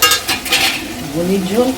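Fish oil and fat frying in a pan, a steady close sizzle with light spoon stirring, under faint background voices.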